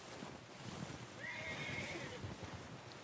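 A horse in the video game Red Dead Redemption 2 gives one short, fairly faint whinny over a soft background wash.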